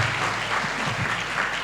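Conference audience giving a round of applause, dense, continuous clapping throughout the short stretch, fairly loud and close.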